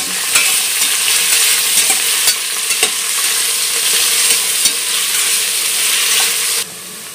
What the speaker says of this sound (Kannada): 6 ಹಸಿಮೆಣಸಿನ್ಕಾಯಿ ಉದ್ದಕ್ಕೆ ಸೀಳಿ ಹಾಕೊಂಡಿದ್ದಾಳೆ. ಇವಾಗ ಇದನ್ನ ಫ್ರೈ ಮಾಡಬೇಕು.